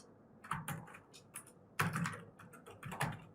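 Keys clatter on an Acer Aspire 3 (A315-58) i3 budget laptop keyboard, a few scattered bursts of quick, light taps close by with short pauses between them, no voices.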